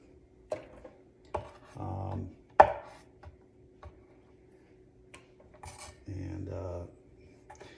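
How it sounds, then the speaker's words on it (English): A knife trims the ends off long beans on a cutting board, with sharp isolated taps and a few short scraping cuts spaced irregularly, close and fairly quiet against a silent background. "I'm just going to trim the edges up a little bit here"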